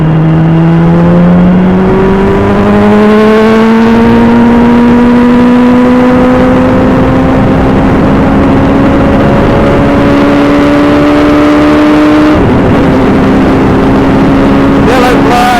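A 390kg Hyper Racer X1 race car drives a wet circuit in rain, its engine note climbing steadily through the gears in a long loud pull, close by, then a brief lift and a return to a high drone.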